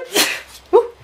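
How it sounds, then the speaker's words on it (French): A person sneezes once indoors, triggered by sunlight: a breathy intake followed by a sharp voiced burst, close and loud. "C'est le soleil, je suis plus habitué, ça me fait éternuer."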